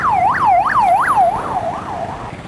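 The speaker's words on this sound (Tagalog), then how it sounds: "Oh, ambulance." An ambulance siren wails in repeated rising and falling sweeps in heavy Marikina traffic, loud and close, then fades slightly over the last second above a low traffic rumble.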